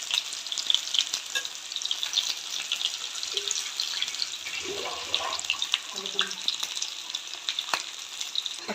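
Chicken leg pieces frying in hot oil with white sesame seeds, a steady crackling sizzle with occasional faint clinks and scrapes, close and fairly quiet throughout.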